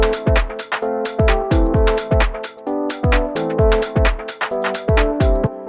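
An e-piano run through the Kilohertz Bit Crush plugin plays a rhythmic sequence of gritty lo-fi chord stabs over punchy low hits, loud and upfront with no voices.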